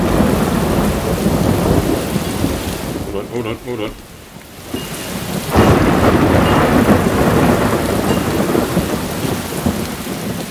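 Heavy rain pours steadily through a thunderstorm in the horror video game White Night, with loud thunder rumbling near; the storm dips briefly midway before surging back, and a voice speaks a couple of words over it.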